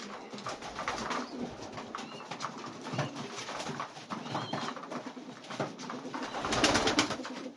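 Old Polish carrier pigeons coo repeatedly in a loft, soft throaty calls overlapping at close range with rustling and background bird sounds.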